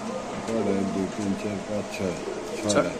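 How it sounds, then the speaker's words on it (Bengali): Magpie and Sirazi pigeons coo in low, rolling phrases, repeated close by, with a faint hum in the background. "এখানে কিছু ম্যাকপাই কবুতর দেখা যাচ্ছে কিছু সিরাজি কবুতর দেখা যাচ্ছে"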